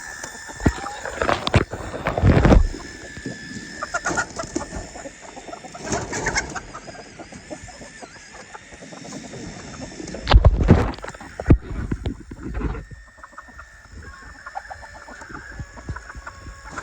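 Chickens cluck inside a hoop house beside a vintage rooster animatronic, with intermittent nearby clucks and a few louder squawking bursts over a low background hum.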